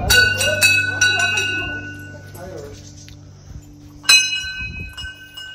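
A temple bell rings during a parikrama around a shrine, bright metallic clangs near the start and again later, heard under crowd chatter and chanting voices.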